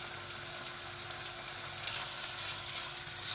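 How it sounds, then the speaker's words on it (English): Chicken searing in a pan over medium heat, a steady close crackling sizzle with a few small pops, continuous and moderately quiet, with no talking. "What we're wanting to do is just sear the outside."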